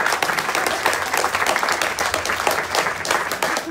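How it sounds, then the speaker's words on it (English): Audience applause at a church launch service: dense, sustained clapping from a crowd, steady and loud throughout with no pauses. "Would you give a big clap out for Jesus?"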